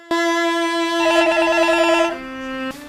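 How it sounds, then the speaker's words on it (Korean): A telephone rings in a home with a steady electronic ringer tone, shifting to a warbling ring pattern midway, then dropping to a lower tone before cutting off, loud and close with no voices. "그때 할아버지로부터 전화가 오죠."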